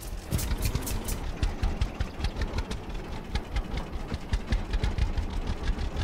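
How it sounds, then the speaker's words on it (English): A tractor engine idling in the farming game Farmer's Dynasty, a steady mid-low chugging with a rapid regular knock, moderately close and fairly quiet, with no talk. "let's hop in the tractor"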